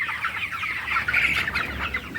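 Broiler chickens cluck in a curtained poultry shed, a busy overlapping chatter of many birds heard at moderate volume with no talk.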